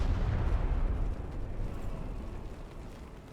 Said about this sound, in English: Don't worry about the explosion sounds.